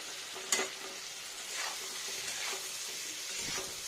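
Potatoes and paneer frying with spices in a pan, a steady close sizzle with occasional stirring scrapes and a brief clatter near the start.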